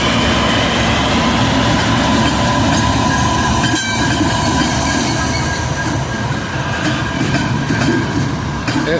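A mixed manifest freight train led by four heavy locomotives rolls past close by at Oakland Junction, a loud continuous roar of engines and wheels with steady rumble and faint squeal throughout.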